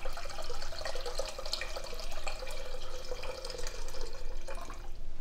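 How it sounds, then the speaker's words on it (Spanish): Water poured into a cooking pot over melted butter in a kitchen, a steady splashing, running stream close by that fills the whole stretch without pause. "Vamos a poner agua. Agua, agua, vamos a poner."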